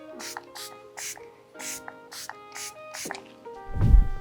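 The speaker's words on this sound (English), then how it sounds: "To set the makeup, I'm going to use Lancome Fix It, Forget It setting spray." Lancome Fix It Forget It makeup setting spray is misted in a row of about seven short, close, evenly spaced hissing bursts, followed by a brief low thump.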